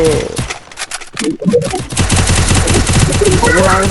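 Rapid bursts of automatic gunfire from Free Fire's zombie mode, loud and close. Sparse shots come first, then a short lull, then a sustained stream of crackling fire with musical game tones running underneath.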